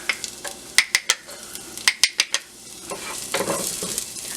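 Garlic dropped into preheated olive oil in a pot crackles and sizzles, with sharp clicks and taps of a utensil against the pot before the frying hiss swells steadily.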